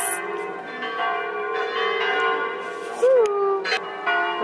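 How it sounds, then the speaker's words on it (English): Church bells in Venice ring with sustained, overlapping metallic tones, fairly close and loud, and a fresh strike swells out near the end over a quiet background. "Can you hear the bells?"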